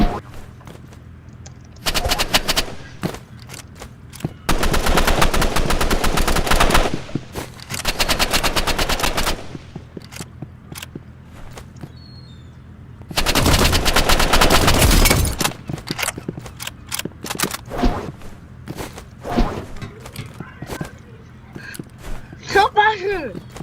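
Assault rifle gunfire in a video game rips out in long sustained automatic bursts with pauses between them, loud and close, with scattered shorter shots and voices talking between the bursts.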